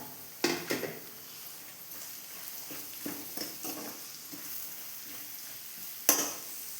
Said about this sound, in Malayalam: ഇനി നമുക്ക് ആ ബാലൻസ് വന്ന എണ്ണയിലേക്ക് ഒരു മൂന്ന് സവോള കട്ട് ചെയ്തെടുത്തതാണ് അതും കൂടെ ചേർക്കാം